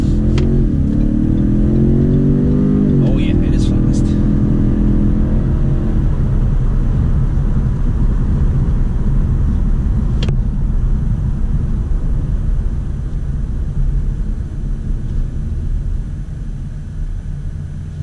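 A 2017 Ford Fusion Sport with all-wheel drive pulls hard from a standstill to 100 km/h, its loud engine roar rising through the gears and then settling into a sustained rumble of road and wind noise.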